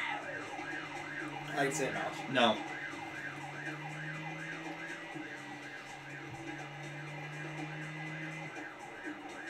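Police siren wailing in a driving video game, a steady rising-and-falling electronic tone running through the whole stretch under a low engine drone, with people talking briefly over it.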